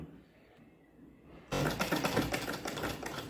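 A sewing machine stitches ready-made piping onto a blouse, starting abruptly after a quiet moment and then running in a fast, loud, steady mechanical patter for the remaining couple of seconds.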